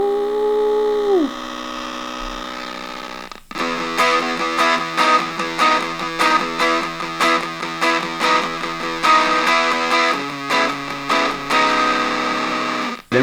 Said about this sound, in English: This is the lowest setting on distortion. And let's crank it up a little bit.